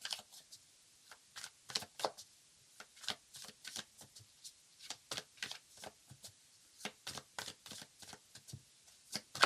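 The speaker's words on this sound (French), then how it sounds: "Je mélange les cartes avec vous" Tarot cards being shuffled by hand, a steady run of crisp riffling snaps and soft slaps in uneven bursts, close and fairly quiet with no talk.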